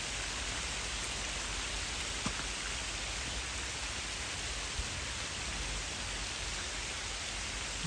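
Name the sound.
rain falling at a fishing spot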